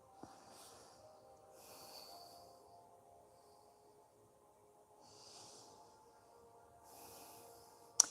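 Slow nasal breathing during a yoga stretch, soft airy inhales and exhales repeating in a steady rhythm of about four breaths, close and quiet over a low background hum, ending with a sharp click.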